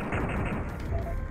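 Rapid gunfire from a chain gun cannon in Duke Nukem 3D World Tour on PS4, aimed at an enemy turret, heard as a dense, continuous burst of shots with booming low impacts and no pauses.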